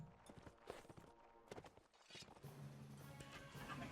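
Horse hooves clip-clop in a medieval multiplayer battle, a quiet scatter of uneven hoof steps and clatter mixed with other faint game noises and a low hum.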